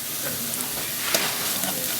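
Onions and spices with garam masala stirred as they fry in hot oil for an aubergine and pea curry, giving a steady loud sizzle with soft scraping movements throughout and no speech.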